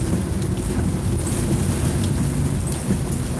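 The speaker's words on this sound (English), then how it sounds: "And the rain is pretty heavy." Heavy rain pounds on a driving car during a thunderstorm, a continuous loud hiss with low rumbling underneath that persists throughout.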